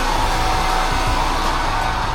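A hair dryer blows steadily at close range in a bathroom, a continuous loud whooshing hum with no pauses.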